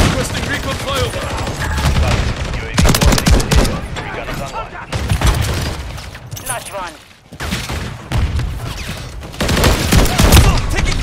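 Shotgun blasts in Modern Warfare 3 on the Shipment map, rapid loud bursts of gunfire clustered in heavy volleys with short pauses, close and forceful, with voices calling out between shots.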